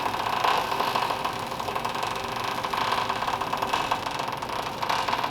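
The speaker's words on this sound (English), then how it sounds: "It's just the skateboard wheel deflecting as it rolls" A skateboard wheel rolls under heavy pressure across sheet metal for a 1930 Ford Model A Roadster dash, giving a continuous, dense rumbling whir with fine rapid pulsing, steady and fairly close.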